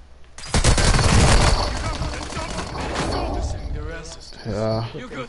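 Video game gunfire in rapid bursts, loud and dense at first and then thinning into scattered shots, with a voice speaking briefly near the end.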